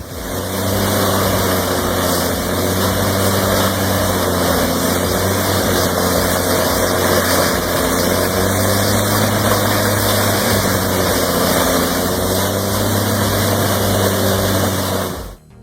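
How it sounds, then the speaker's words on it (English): Diesel-powered wood chipper shredding wood into chips, a steady loud drone with layered engine harmonics and a continuous rough grinding texture that runs unbroken without pauses. "within seconds, tons of wood are shredded into uniform chips"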